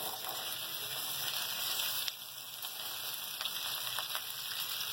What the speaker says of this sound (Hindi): मैं फ्राई के लिए भिंडी डाल दूंगी